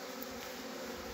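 Bees swarm around a beehive in a continuous dense buzzing drone, close and steady, with no voices.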